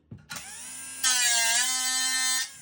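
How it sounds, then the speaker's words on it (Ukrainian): An angle grinder spins up and grinds against metal to throw sparks, a loud sustained whine with a brief startup, rising sharply in pitch and intensity midway, then cutting off near the end. "Беремо болгарку і перевіряємо іскру."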